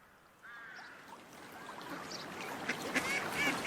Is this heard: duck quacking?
yes